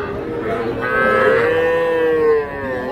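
Cattle and young calves at a rural livestock market in Ambari, Parbatipur, Dinajpur; one loud, close, drawn-out moo of about a second and a half rises over faint background ambience.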